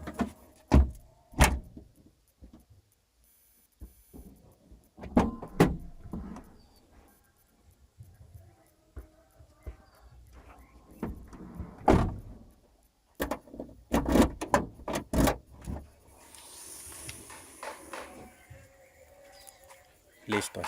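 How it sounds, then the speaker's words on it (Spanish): Doors of a Chevrolet Spark opened and shut several times, sharp thumps and latch clunks spread across the stretch with pauses between, near and fairly loud, with people talking throughout. "Vamos a cerrar la puerta trasera, vamos a abrir una puerta"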